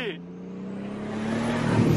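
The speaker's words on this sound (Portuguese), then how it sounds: "tô virando meu carro" A Chevrolet Omega with cut suspension springs hums steadily while turning at a roundabout, the engine note rising slightly toward the end, with someone talking over it.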